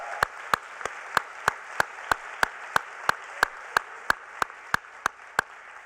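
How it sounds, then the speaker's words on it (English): Audience applause at the Hult Prize finals and awards ceremony at the United Nations: a soft crowd patter under one sharp, close clap repeating at a brisk, perfectly steady beat about three times a second. "Let's give both of them a quick round of applause."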